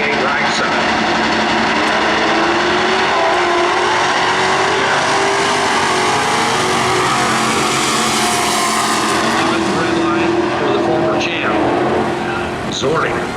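Loud dirt track race engines roar continuously at Norwalk, a small pickup truck and a Camaro among the cars, with engine pitch rising and falling as they pass under steady announcer talk over the PA.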